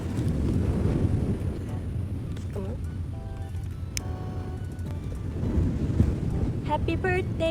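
Strong wind gusts across the microphone at Fulong Beach, a loud continuous rumbling buffet with a faint surf-like wash, while people talk and call out over it.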